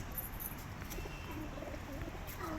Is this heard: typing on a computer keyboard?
no